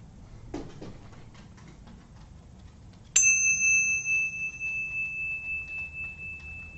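During a Gnostic Mass, a ritual bell is struck once after a quiet stretch, and its clear metallic tone rings on and slowly fades for several seconds.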